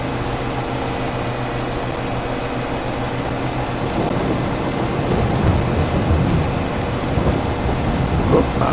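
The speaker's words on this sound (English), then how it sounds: "And it started raining." Rain setting in on a farm in Farming Simulator 22, a hum of machinery giving way to a thickening rushing wash of rainfall with low rumbling beneath, growing louder toward the end.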